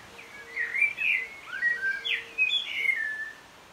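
Garden birds sing in clear, bright whistled phrases with rising and falling notes, fairly close over a soft outdoor background hush, with no voices.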